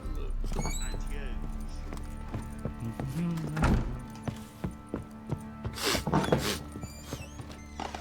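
Hooves of the horse Roach clip-clopping in The Witcher 3: Wild Hunt, a steady near rhythm of thunking steps over game ambience and music.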